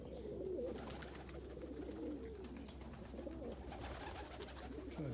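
A blue check pigeon hen coos softly in a snowstorm, low rolling coos repeating through steady background noise.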